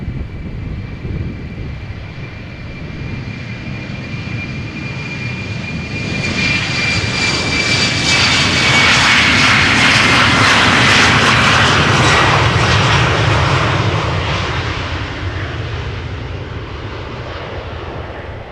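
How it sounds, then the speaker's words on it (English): A KLM Embraer 190 airliner passes at Amsterdam Schiphol Airport, its jet engines swelling from a distant whine to a loud roar and then receding. A high engine tone runs through the noise, and no one speaks. "Embraer 190."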